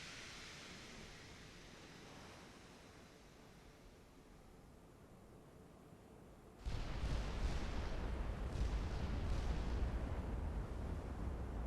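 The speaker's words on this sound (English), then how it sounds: "We need all the turrets to fire at once." Battleship main gun turrets fire a full salvo in the naval combat game Ultimate Admiral: Dreadnought, a sudden loud, deep boom that rolls into a sustained low rumble after a quieter ambient stretch.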